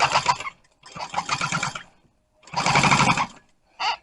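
An upholstery sewing machine stitching boat seat fabric in four separate bursts, loud and close, each a fast whirring rattle with short silent gaps between them.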